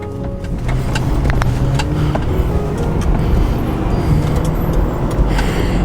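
A Lincoln Town Car V8 accelerates hard out of a parking lot, a loud, steady, close engine roar with road rumble that holds for the whole stretch, with no talk over it.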